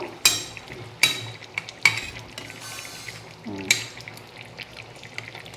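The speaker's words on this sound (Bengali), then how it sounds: "এটা এবার খানিকক্ষণ ফুটতে দেব।" Bhetki fish curry in a pan, a low bubbling simmer under a few sharp clanks and scrapes of a utensil against the pan, spaced about a second apart.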